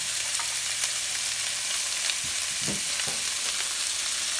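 Food dumped into olive oil in a hot pan fries with a loud, continuous sizzle, broken by a few soft stirring knocks near the middle, with no voices.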